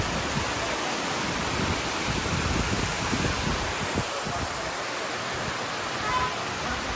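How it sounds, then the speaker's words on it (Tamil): Constant rushing of water from a small waterfall, a dense steady roar filling the whole scene. "ஒரு குட்டி ஃபால்ஸ் தான், ரோட்டோரமே அமைஞ்சிருக்கு."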